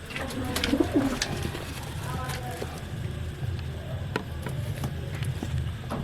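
Pigeons cooing in a coop, soft low coos under a steady background hum with light rustling and scattered clicks, while someone talks nearby.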